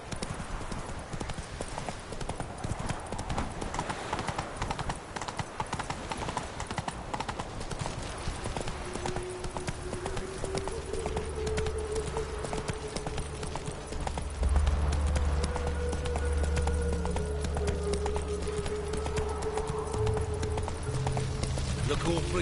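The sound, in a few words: horse hooves galloping in the video game The Witcher: Wild Hunt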